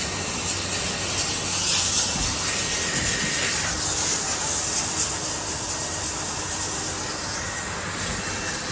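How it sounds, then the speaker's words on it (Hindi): Lubricant spray hisses onto car suspension bushes in a steady, loud, close-up jet. The rushing sound runs almost without a break throughout. "बुशेज़ में स्प्रे वगैरह मारा, थोड़ी आवाज़ कम हुई"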